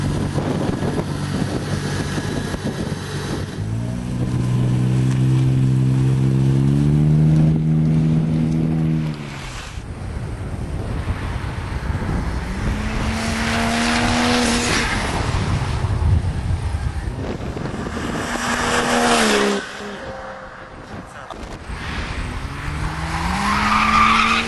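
A Toyota Twin Turbo race car is driven hard on track, with engine notes climbing through several gear changes, passes growing louder and fading, tyres skidding and wind buffeting the microphone, and no talking.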